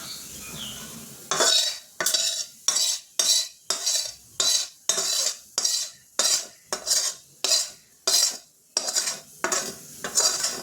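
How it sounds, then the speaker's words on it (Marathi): A spoon stirs hot sugar syrup into a ragi ladoo mixture in a metal pan, giving about fifteen regular rhythmic scraping strokes, close and fairly loud, after a quiet opening. "पाक ॲड केल्यानंतर असं सगळं व्यवस्थितपणे हलवून घ्यायचं आणि एकजीव करून"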